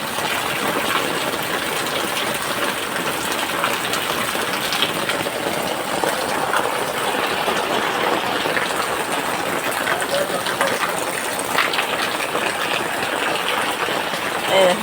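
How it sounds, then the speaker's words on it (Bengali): Floodwater rushes steadily down a fully submerged road in a continuous broadband roar, like a strong gush or heavy rain, with no letup. A voice talks faintly beneath it now and then. "এই দেখো, এই জল নামছে এখান দিয়ে, জলের কি রেস। আর পুরো ডুবে গেছে রাস্তা"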